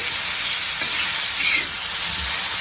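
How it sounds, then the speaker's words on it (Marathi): Green tomatoes and curry leaves roasting in a pan for a green tomato chutney, producing a loud, continuous hissing sizzle at close range with no voices. "आपण आता ही टमाटे पण भाजण्यासाठी टाकून घेऊया आणि कढीपला जी ही कढीपला पण ह्यात टाकून घेतला आहे"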